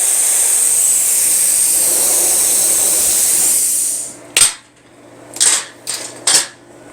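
A BESTARC pilot arc plasma cutter cuts metal with a loud, steady hiss for about three and a half seconds, then falls silent before several sharp metallic clanks and knocks close by.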